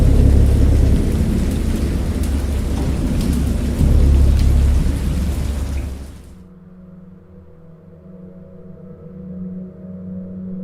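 A thunderstorm with heavy rain and rolling thunder, loud and dense for about six seconds before cutting to a quieter, low rumbling background. No one speaks.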